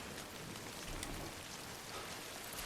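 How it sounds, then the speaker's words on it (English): Steady rain pours down in the Death Stranding game world, a dense even hiss of falling drops that holds without a break and with no voices over it. "It's all raining."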